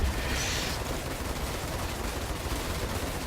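Omnisky heavy lasers fire from a 300i ship in a space video game: a steady, rapid stream of dense crackling shots, loud and continuous, with no pauses.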